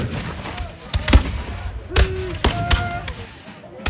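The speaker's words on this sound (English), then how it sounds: "the Americans aren't firing volleys, they're just firing lots of scattered shots" Scattered musket shots at a Battle of Bunker Hill reenactment, several sharp, irregular cracks and thuds at varying distances, mixed with crowd noise and talk.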